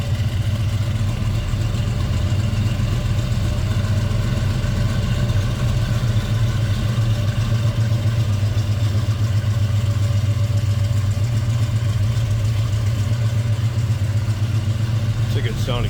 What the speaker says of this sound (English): It's a good sounding truck.